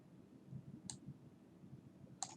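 A computer mouse clicks twice at a quiet desk, two sharp, faint taps about a second apart over a low background hum.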